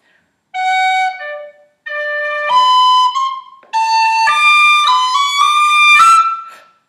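A tin whistle plays a phrase of the Irish tune Kitty's Rambles, bright clear notes in a lively run broken by two short breath pauses, close and alone.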